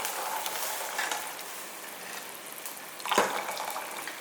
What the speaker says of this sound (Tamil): 1/4 கப் அளவுக்கு இந்த தண்ணி இதில் ஊற்றிக்கலாம்